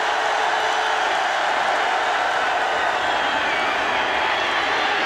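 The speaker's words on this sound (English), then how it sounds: "Crowd making some noise." A college football stadium crowd roars during Florida against Ole Miss in 2007, a dense, loud, sustained wash of cheering with no break across the moment.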